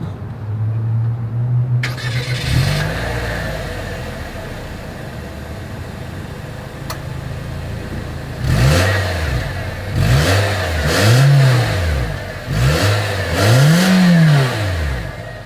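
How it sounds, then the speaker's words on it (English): A 2023 Nissan Versa engine starts, idles, then revs repeatedly in several rising-and-falling bursts, the exhaust note swelling and dropping close by. "As always, here is that exhaust clip."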